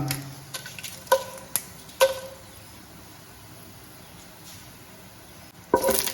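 Whole spices and four cut dried red chillies stirred in a pan while cooking a Malayalam-style vegetable pulao, giving a few sharp clinks and ticks of a spoon against metal over a faint, steady sizzle, with no talk.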